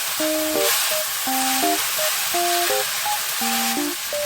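Japchae glass noodles are stir-fried with soy sauce and brown sugar in a single pan, giving a steady broadband sizzling hiss that runs throughout beneath a plucked musical melody.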